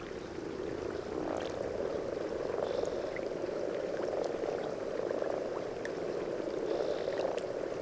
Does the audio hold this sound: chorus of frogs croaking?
yes